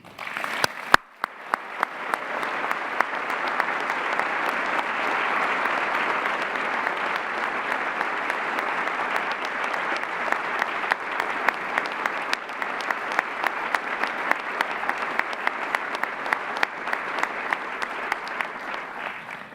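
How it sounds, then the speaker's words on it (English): A large audience at a college of osteopathic medicine honors and awards ceremony applauds its honorees, steady, dense clapping that swells in the first seconds and holds for nearly twenty seconds, filling the hall alone. "Please join us in a round of applause for all of our honorees."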